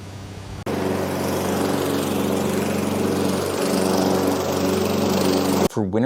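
An AI-generated lawn mower cuts grass with a loud, steady engine drone and a broad rushing roar that holds constant for several seconds, then cuts off abruptly.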